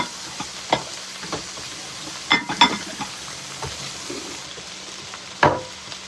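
Shrimp and twisty noodles cooking in a pan: a soft background sizzle with scattered stirring scrapes and clinks, a cluster near the middle and a sharper knock near the end, close and moderately quiet, no voices.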